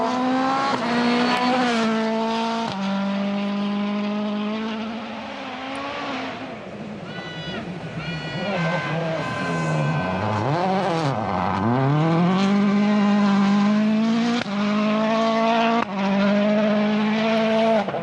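Dani Sordo's Citroën rally car at the start of the power stage of the 2013 Rally Finland, engine loud and close, revving hard through repeated gear changes with rising and falling pitch sweeps as it accelerates away.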